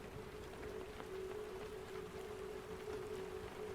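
Steady, relentless rain falls outside a church, a dense even hiss of drops with a faint constant tone underneath, continuous and moderately distant with no voices.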